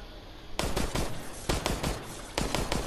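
Gunfire in the video game Resident Evil Resistance: dense bursts of rapid shots that start abruptly, break off briefly, then resume in clusters, loud and close.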